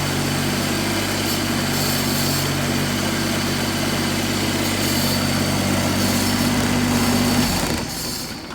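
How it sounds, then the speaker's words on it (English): A John Deere 322 lawn tractor engine runs at a steady, loud idle with a constant drone, then cuts off sharply near the end, leaving a quieter tail. "It's pretty annoying, but it's a really good running little tractor."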